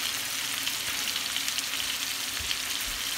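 Sweet Italian sausage and one medium sliced onion sautéing in a pan, giving a steady, dense, close sizzle and crackle with no pauses and no talking.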